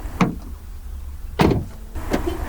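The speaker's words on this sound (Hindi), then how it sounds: "जैसे ही कार के सारे दरवाजे बंद हो जाते हैं और इसका स्मार्ट की कार का एक्सेस जोन से बाहर हो तो ये कार अपने आप लॉक हो जाता है।" A Renault Triber's door shuts with a dull thump, followed by two short mechanical clunks of the central locking engaging automatically; nearby and moderately loud, with no voices.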